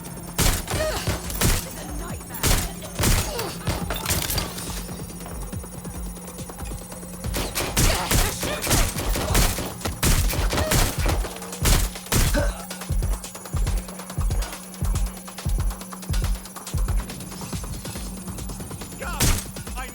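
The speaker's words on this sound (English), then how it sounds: "Taking fire! Being shot at here!" Rapid bursts of gunfire in the video game Watch Dogs: Legion crackle repeatedly, loud and close, with scattered single shots between volleys and voices occasionally underneath.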